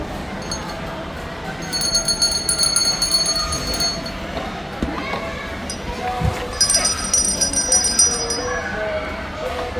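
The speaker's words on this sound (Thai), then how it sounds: "สั่นกระดิ่ง" A bell rung at an indoor children's playground zone at HarborLand in ICONSIAM sends out two bright bursts of rattling metallic ringing over busy background noise and voices.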